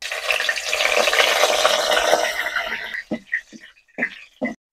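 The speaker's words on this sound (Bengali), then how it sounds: "এখন আমি তেজপাতা, এলাচ আর এই যে দারচিনি এগুলা তেলের ভিতরে দিয়ে নাড়াচাড়া করব" Bay leaves, cardamom and cinnamon sizzle loudly in hot oil in a karahi, a dense crackling hiss that suddenly drops into a few short, separate spatters and stirring scrapes.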